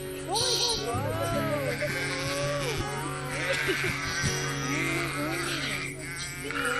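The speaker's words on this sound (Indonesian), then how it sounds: "Nah, ini domba-dombanya ngikut dia." Sheep bleat repeatedly in wavering, overlapping calls, some close and some farther off, amid a busy outdoor mix while people talk over the flock.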